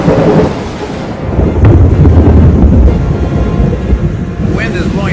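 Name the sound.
thunder and heavy rain during a summer storm in Montreal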